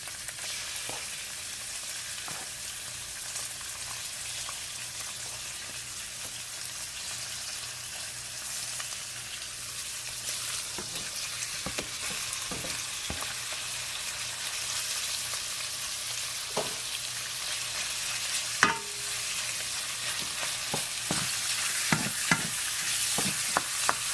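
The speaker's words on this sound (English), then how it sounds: "I'm going to brown up my pork" Thinly sliced pork browns in a hot pan with a steady close sizzle and crackle, broken by occasional sharp pops and the scrape of stirring, with no one talking.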